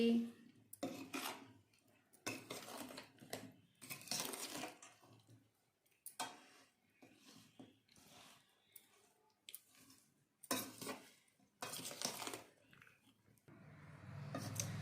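Mango pickle being stirred in a metal pan, with repeated scraping and clinking strokes of a spoon against the pan that come in short bursts, close and fairly loud, separated by brief quiet gaps.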